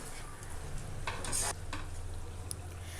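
Chicken masala fry cooking in a pan with pepper powder, a steady low sizzle with stirring scrapes and a brief louder burst of frying midway, no voices.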